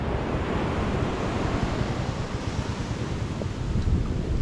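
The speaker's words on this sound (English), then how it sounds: "So now this is Araromi Beach" Surf rolling onto Araromi Beach in Ondo State, Nigeria, a steady, loud wash of breaking waves with wind buffeting the microphone throughout.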